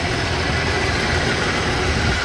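A Ford car engine idles in a repair shop with a steady, even rumble and broadband noise, no speech.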